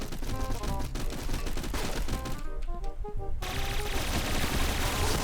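Rapid gunfire from dual guns in the shooter game Point Blank, loud dense bursts filling the whole stretch with continuous crackling shots and game effects, no talking.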